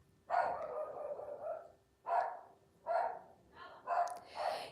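A dog barks five or six times in an uneven series, fairly near and moderately loud, with short pauses between the barks.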